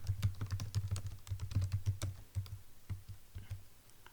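Rapid keystrokes on a computer keyboard as a terminal command is typed, a steady run of close, crisp clicks that thins out and slows toward the end, with no voices.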